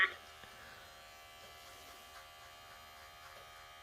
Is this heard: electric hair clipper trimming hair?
yes